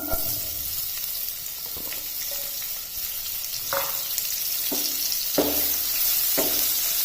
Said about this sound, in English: So for this recipe, you have to fry onions till they are nice and brown.